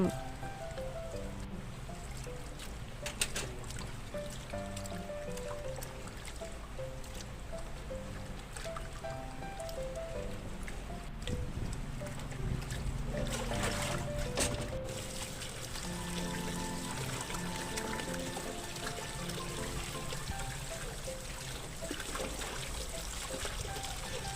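Pig offal is washed by hand in alum water, with steady trickling and pouring water plus sloshing and handling noises throughout, moderately close.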